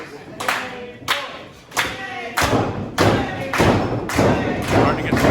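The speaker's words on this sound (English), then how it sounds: "slaps him in the back of the head as a little added insult to injury" Sharp slaps and heavy thuds from a professional wrestling bout in the ring, about seven distinct hits in loose succession over a continuous crowd murmur.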